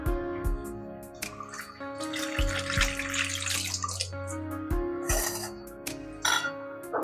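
Cleaned prawns are rinsed under a running kitchen tap, with water splashing and sloshing in a bowl or sink and occasional clinks, close and steady throughout with no speech.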